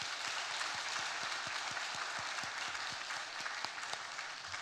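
A church congregation applauding at a praise worship service, dense continuous clapping from a large crowd filling the room, even in loudness throughout.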